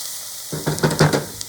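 Garlic and onions are stirred in a hot frying pan. A quiet hiss swells into several bursts of louder sizzling and scraping as the mix is moved, then settles again, heard close with no speech.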